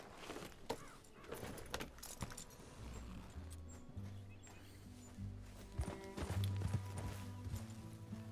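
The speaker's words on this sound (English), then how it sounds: "Get on the fucking horse, Edith." Horse hooves clip-clop steadily in the Red Dead Redemption 2 video game, a rhythmic close trot under game music and ambient sound, with some jingling tack.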